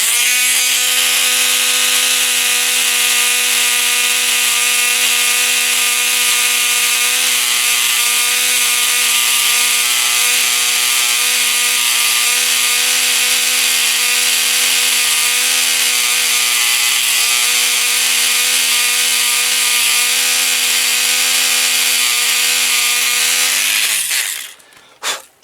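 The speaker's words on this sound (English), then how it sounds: "So I'm just gonna pop him off and work on it with the Dremel drill" A Dremel rotary tool whines at a constant high pitch while shaping a small part for a repair, loud and close, running steadily before spinning down at the end.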